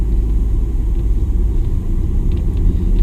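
A 2019 Jeep Cherokee Trailhawk driving in normal drive mode, heard from inside as a loud, steady low rumble of engine and road noise with no clear revving.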